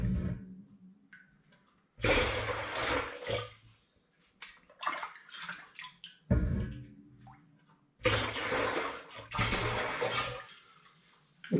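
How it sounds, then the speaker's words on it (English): Sugar water is poured from a jug into a cider fermenter in several bursts of splashing and gurgling, separated by short quiet gaps while the jug is refilled. "I'm transferring my sugar water with a jug"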